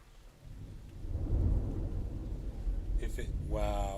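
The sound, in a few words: thunder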